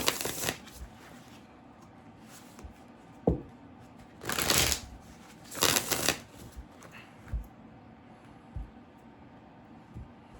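A deck of tarot cards shuffled close by in quick bursts of riffling and soft flicks, with a few louder clusters and sparse taps between them.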